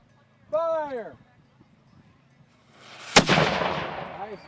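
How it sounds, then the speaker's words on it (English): A historic 3-pounder cannon fires at a reenactment encampment with one sharp, loud blast that rumbles and fades outdoors, after a brief shouted command just before it. "Prime. 3-pounder, ready? Fire!"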